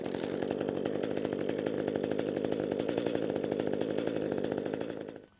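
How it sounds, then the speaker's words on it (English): A gas hedge trimmer's small two-stroke engine runs loud and close with a rapid, buzzing rhythmic drone, then cuts off and winds down abruptly at the end. "our gas hedge trimmer should fire on the first or second pull"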